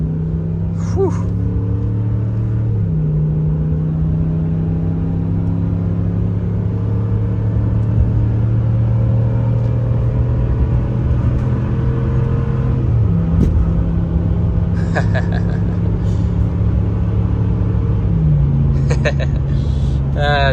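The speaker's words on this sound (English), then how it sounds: "Not great gas mileage, but boy does it sound good." Ram 1500 with the Hemi V8 towing a snowmobile trailer on a winter highway, a loud steady engine drone that drops and climbs in pitch through gear shifts, with someone talking over it.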